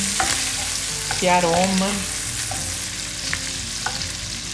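Butter melting into rendered pancetta fat in a pan for casoncelli sauce, giving a steady, close sizzle with light stirring clicks throughout; a voice speaks briefly over the sizzle near the start.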